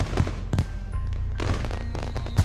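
Fireworks in the Katawa Shoujo visual novel, a steady crackling rumble with several deeper booms and sharp pops spread across the stretch.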